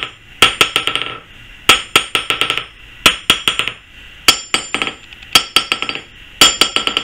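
Hammer blows ring off a 115-pound anvil at a knife forge, coming in repeated bursts of five or six bright metallic strikes with short pauses between groups, loud and close.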